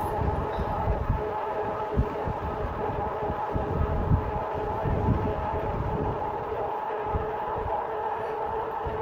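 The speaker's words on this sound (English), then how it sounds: "Oh, a lot of wind here." Strong wind buffeting the microphone while riding a Radwagon 4 electric cargo bike, a constant low roaring rumble with gusty swells, loud and unbroken throughout.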